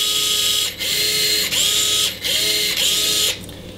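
A cordless automotive ratchet-type tool works a fastener in four short whirring, clicking bursts of under a second each, separated by brief pauses, close and loud with no talking.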